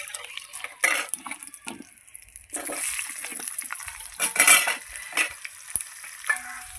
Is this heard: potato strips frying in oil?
yes